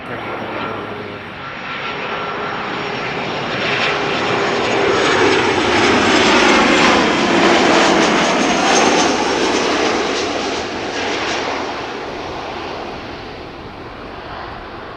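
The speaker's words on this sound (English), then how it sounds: "arriving from Pisa. Transavia flight 5424, 737-700" A Transavia Boeing 737-700 arriving from Pisa passes low and loud on approach at Amsterdam Schiphol, its jet roar swelling to a peak mid-pass and slowly fading, heard alone outdoors.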